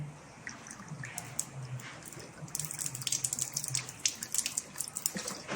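Water poured from a bucket into the hose of a Euromair MixPro 28 rendering and floor screed machine, a quiet trickle that grows into a splashing, gurgling flow with irregular sloshes, close by and alone.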